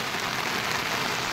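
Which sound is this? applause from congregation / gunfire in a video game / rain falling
rain falling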